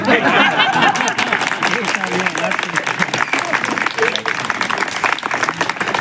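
Dense applause from an audience at a literature festival poetry reading, steady and fairly loud throughout, with crowd chatter and a few voices mixed in.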